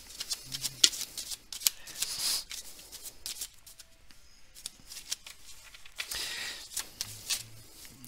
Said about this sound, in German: die Happy Box geht etwas schwer zu mischen, weil die Karten so rubbelig sind